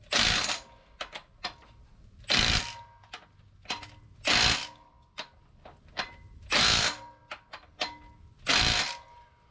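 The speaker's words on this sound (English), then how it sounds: "Now I got this is a 1/2 inch Milwaukee impact with a 3/4 inch socket on it." A 1/2 inch Milwaukee impact wrench fitted with a 3/4 inch socket tightens bolts on a 1997 Jeep Wrangler TJ during clutch work, firing in five short, loud hammering bursts with brief clicks and pauses between them.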